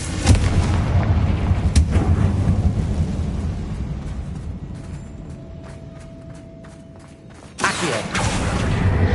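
Confringo spell blasts in Hogwarts Legacy boom heavily, with rumbling explosive bursts at the start and near two seconds, a quieter stretch with faint clicks and a tone, then another loud rumbling blast near the end.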